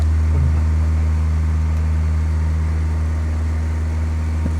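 A steady, loud small airplane engine drone with a low, constant hum runs throughout, unchanging and close, with no talking.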